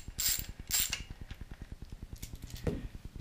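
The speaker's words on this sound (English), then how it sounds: "we're going to take our 14mm socket. We're going to take the oil fill plug out." A 14mm socket ratchet loosens the oil fill plug on a 2011 Yamaha XT 250 motorcycle, a rapid, even run of close clicking pawl ticks with a few brief scraping handling noises.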